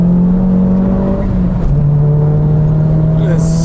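A Ford Focus RS MK1 on a mountain road gives a loud, close engine drone whose pitch holds, dips briefly, then settles at a slightly lower steady tone as the car drives on.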